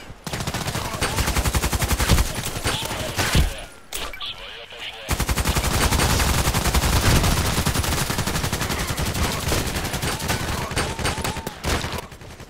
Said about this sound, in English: And now I need the machine gun, this automatic, like machine gun.